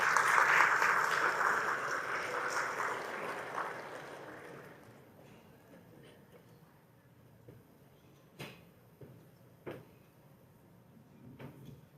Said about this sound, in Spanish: un fuerte aplauso para todos nuestros panelistas